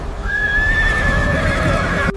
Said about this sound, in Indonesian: Prajurit Mesir mempercepat langkah, cambuk menghantam kuda.